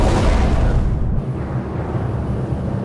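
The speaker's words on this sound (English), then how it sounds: "Torpedo fire! he launches his first torpedo." A submarine torpedo launch at night, heard as a loud, deep rumbling explosion-like roar that fills the clip and slowly thins out.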